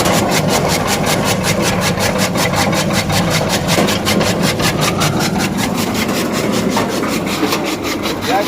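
A chaff cutter with two rollers and a 3 HP motor runs steadily and loudly, giving a continuous grinding, whirring machine drone with a rapid rhythmic chopping texture and no pauses.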